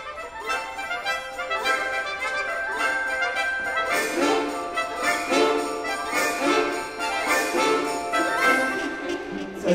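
An orchestra plays the toy-soldier march from Respighi's Pines of Rome, with no low instruments. Bright, jingling high winds, brass and percussion beat out a brisk, steady march rhythm throughout, with no talking.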